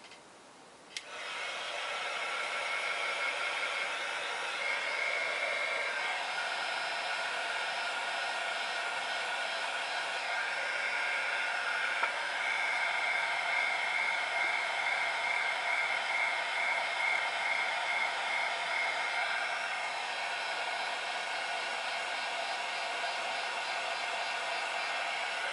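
A heat gun blows continuously with a steady airy roar and faint whine while heating a craft card, switching on abruptly and running close and unbroken for the rest of the clip.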